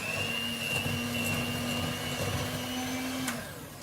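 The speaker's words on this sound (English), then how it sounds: "We have to whisk it for round about 2 minutes on medium to high speed." An electric hand mixer whisks brown and white sugar with wet ingredients, a steady, close motor whine with a high tone throughout before easing off at the end, with no talking.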